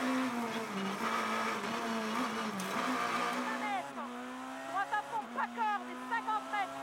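A rally car engine holds on the rev limiter in top gear through narrow lanes at the Tour de Corse in France, giving a steady loud buzzing drone that wavers slightly, then breaks into choppy revving bursts as the car is chased hard.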